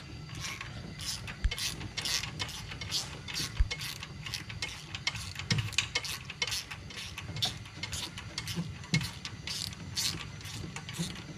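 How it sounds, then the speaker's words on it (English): A hand ratchet clicks in quick, steady repeated strokes while undoing a bolt on an LS engine during a valve spring swap, close and fairly quiet with occasional metallic knocks. "Get your ratchet."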